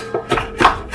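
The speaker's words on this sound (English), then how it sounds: "you want to chop it very, very fine" Spinach and other greens are chopped finely by hand with a knife on a board, a few quick irregular thuds close up, with no talk.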